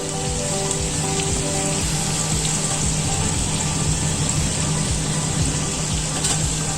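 Finely chopped green chili and red chili powder frying in butter in a pan, a loud continuous crackling sizzle with dense spattering that runs steadily throughout, no talking.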